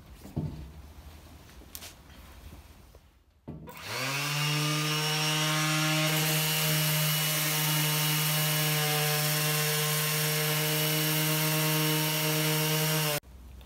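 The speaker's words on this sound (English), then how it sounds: "But what I shall now do is sand it down ready for some paint." A power sander runs on a metal gritblaster part to prep it for paint. It starts up after a few faint workshop knocks and holds a loud, steady, whining drone for about nine seconds before cutting off, with no talk.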